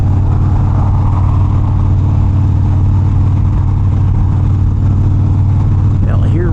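A motorcycle roars along an Arizona highway on a hot day while pulling out to pass a truck, its engine a loud, steady drone mixed with heavy wind rush throughout.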